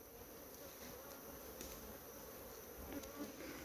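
Honeybees hum in a dense, steady buzz at heavily bearded hives in a Guyana apiary, a continuous swarm drone with individual bees briefly flying close past, heard alone at a moderate level.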